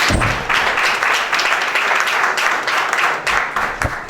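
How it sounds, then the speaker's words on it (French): A church congregation at a Christian fellowship service applauds Madame Lamboni with moderately loud, steady clapping, a few heavier thumps mixed in. "Madame Lamboni, s'il vous plaît, levez-vous, on va applaudir pour votre vie."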